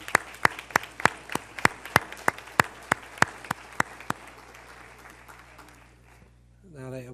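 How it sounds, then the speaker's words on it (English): Applause at a school Board of Education meeting, a thinning round of separate hand claps about three per second that trails off after four seconds, followed by a brief voice. "let's give them another round of applause"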